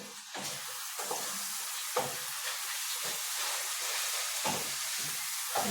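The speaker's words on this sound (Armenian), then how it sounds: "Լավ է տապակում, հա։" Spinach fries in a pan, a soft steady hiss punctuated at regular intervals by brief scraping stirs, fairly quiet and close, with no talking.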